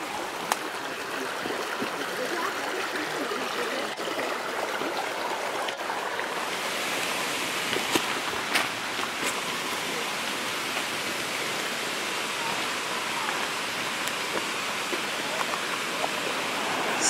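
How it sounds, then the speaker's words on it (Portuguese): A stream flows steadily through a cave park in Minas Gerais, Brazil, giving a continuous broad rushing and splashing that stays loud and even throughout, with a few faint clicks on top. "Água de todo lado, água para um lado, água para o outro."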